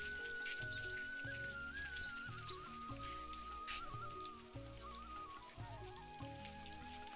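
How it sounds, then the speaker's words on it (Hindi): Heavy rain falls outside a shop in the hills, a faint, continuous patter and hiss on surfaces, with steady tonal sounds running underneath. "देखिए दुकान के बाहर पड़ा है बारिश का धार, तो देख सकते हैं बारिश का धार पड़ा हुआ है आज।"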